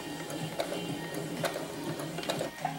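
A sewing machine runs steadily, stitching a drawstring travel bag toward a zigzag seam, its even mechanical whir carrying small ticking clicks throughout, close by with no talking.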